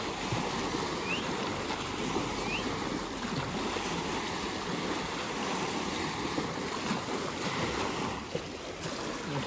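Waves wash continuously on Lake Atitlan, a steady, even rush of water mixed with wind noise against the microphone, with no voices.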